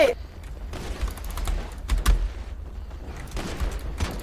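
Gunfire rattles through a GTA Star Town gang fight outside a prison, dense bursts and thuds running continuously at moderate loudness, with no clear talk over it.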